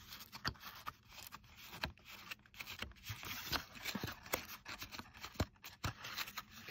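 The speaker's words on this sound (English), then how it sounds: "we are just going to fold away" A scored paper strip is folded along its score lines for a small circular box, producing soft crackling, scraping and creasing sounds, close and quiet with small irregular clicks.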